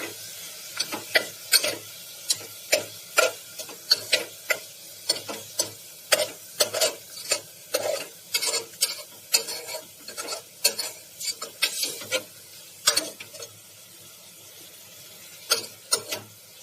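Chicken mince roasting in a pan is stirred with a spoon in quick, regular scraping strokes over a soft, low sizzle, heard close and without talk.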